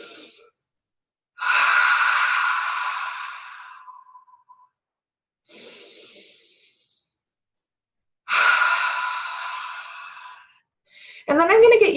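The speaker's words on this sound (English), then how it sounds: "Just take a nice deep breath in" Slow deep breaths in and out during a chakra meditation workshop, each long breathy exhale fading gradually, repeated in a steady unhurried rhythm with quiet pauses between, close and fairly loud, ending with a brief voice.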